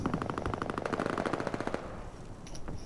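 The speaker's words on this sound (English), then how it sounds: "I hear bullets." Video game machine gun fire rattles in a fast, sustained burst of rapid shots, fairly loud and continuous, then trails off into a few scattered quieter sounds.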